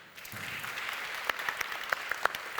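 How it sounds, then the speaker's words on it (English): Audience applause at a forum session, a steady spread of many hands clapping, with a few sharper, louder claps standing out over the wash. "I think it deserves a round of applause."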